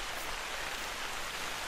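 Steady rainfall in the video game theHunter: Call of the Wild hisses evenly throughout, a constant wash of falling drops with nothing else standing out.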